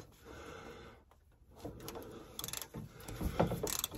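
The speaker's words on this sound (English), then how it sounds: "we're going to use a socket and a 3/8 wrench" A socket ratchet wrench loosens a nut on a front bumper bolt of an OBS-era Ford Bronco or F-series pickup, giving short bursts of mechanical clicking and ratcheting that grow busier toward the end, close and fairly quiet.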